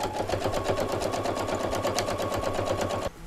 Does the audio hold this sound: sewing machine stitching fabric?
yes